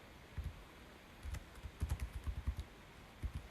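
Python code is typed on a computer keyboard in quick, uneven bursts of soft close key clicks, with short pauses between runs.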